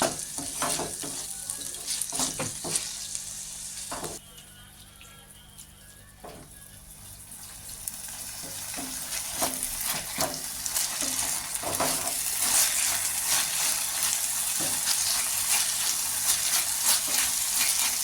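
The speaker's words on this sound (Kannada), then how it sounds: "ಇದರಲ್ಲೇ ಆಯಿಲಲ್ಲೇ ಚೆನ್ನಾಗಿ ಫ್ರೈ ಮಾಡ್ಕೊಳಕ್" Steady crackling sizzle of chicken frying in hot oil, with occasional scraping and stirring sounds throughout.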